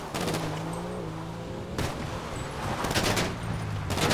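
Gunfire in GTA V crackles in several short bursts of rapid shots over a steady vehicle engine drone, with a louder cluster near the middle and more bursts toward the end.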